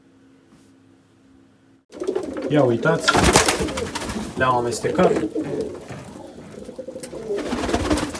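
Domestic pigeons coo in soft, throaty warbles close by while someone talks over them in Romanian, after a quiet start.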